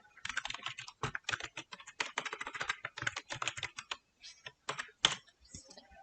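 Fingers type on a computer keyboard in a quiet room, with quick bursts of crisp key clicks broken by short pauses, close and clear with no talking.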